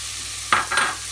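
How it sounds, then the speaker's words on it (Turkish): Dry lentils and rice tipped into a soup pot, two quick pouring rustles close by, the second longer, with no talking. "Şimdi dediğim gibi artık mercimeklerimi ve pirincimi atıyorum"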